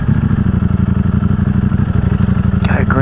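Ducati Streetfighter V4S motorcycle engine runs loud and close with a rapid, pulsing throb held steady throughout. A brief higher whine rises near the end.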